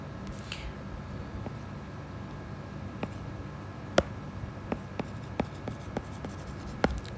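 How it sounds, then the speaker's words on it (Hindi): A pen scratches over paper while notes are written by hand, a soft, close, continuous scratching broken by sharper taps and strokes, quiet and without talk. "लिख देती हूँ मैं अच्छे से।"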